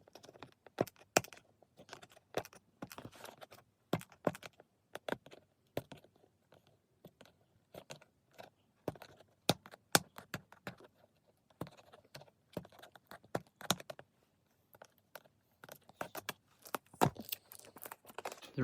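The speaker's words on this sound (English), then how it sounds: "Take the tape off the side." Tape peels off the side of a cardboard box holding a Nissan Skyline GTR RC car, giving an irregular run of sharp crackling snaps and sticky tearing at moderate-to-soft volume, with no talking.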